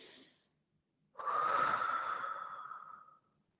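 Heavy breathing during a beginner HIIT workout: a short breath, a pause, then one long, drawn-out, airy exhale that fades over about two seconds, close and fairly soft.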